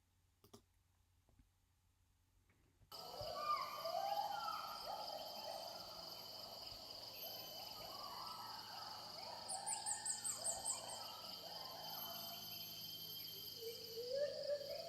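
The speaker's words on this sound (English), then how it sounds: "they're listening for crickets, cicadas, an agile gibbon" A dense rainforest chorus: steady high-pitched insect trilling and crickets, with repeated rising whooping calls of an agile gibbon that build in the distance after a quiet start.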